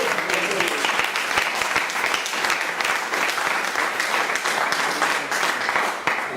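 A church congregation claps continuously in dense, even applause that fills the room from start to finish.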